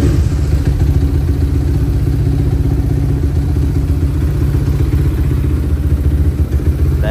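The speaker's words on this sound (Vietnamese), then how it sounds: "Bây giờ mình sẽ đề máy cho các bạn xem." A motorcycle running an auto ECU tune from Redleo rumbles steadily at close range, its loud, even idle carrying a mechanical clatter throughout with no talk.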